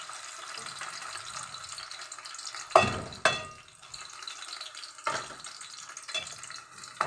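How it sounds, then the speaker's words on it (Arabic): Chopped onion frying in a pan while making stuffed vegetables, a soft steady sizzle broken by a few louder clatters or stirring bursts, close and without talk. "البصلايه تتقطع تقطيع بسيط، سوري تقطيع صغير، وتحمريها يا دوبك تطرى متتحرقش"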